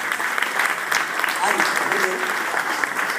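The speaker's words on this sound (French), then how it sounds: "Vous pouvez m'applaudir car j'ai tenu le secret." Applause from an audience at a Stars et Métiers event in Avignon, a steady mid-loud clapping wash that continues throughout, with a voice speaking over it.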